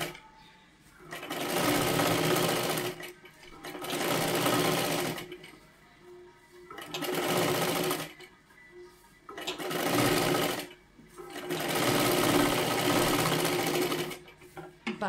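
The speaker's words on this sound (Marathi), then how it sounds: "आपल्याला डबल शिलाई मारून घ्यायची आहे" Five bursts of rapid stitching from a sewing machine double-stitching the sleeve of a size-36 katori blouse, each run a few seconds long and separated by short pauses, close and clear.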